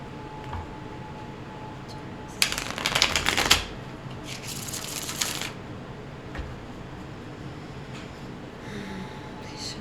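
Tarot cards being shuffled by hand, two short crisp riffling bursts about a second apart, close up over an otherwise quiet room.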